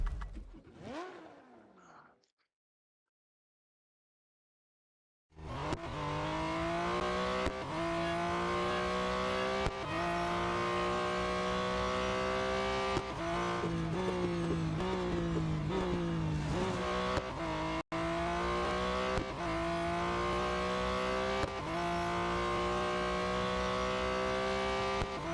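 A Porsche race car in Real Racing 3 screams through repeated gear changes after a short silent start, its engine note climbing and dropping in a continuous loud run of acceleration and shifts.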